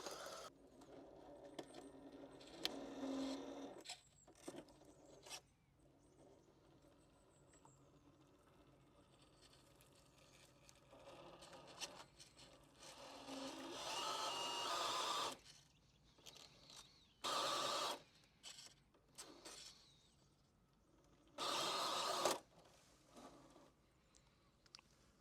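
An LD/RC 18401 Pro RC crawler with a 1500 kV motor drives slowly at walking pace on a trail. Bursts of faint electric whine and crunching wheels come and go, some louder, with gaps of quiet between them.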